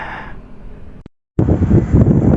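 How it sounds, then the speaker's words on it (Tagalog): Strong wind buffets the microphone outdoors at a roadside stop near a restaurant during a motorcycle ride in Infanta, a loud low rumbling roar that cuts out briefly and then returns in full force. "Grabe ang hangin dito."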